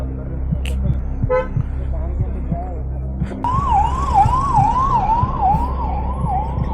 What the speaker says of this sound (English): Yeah, the ambulance came.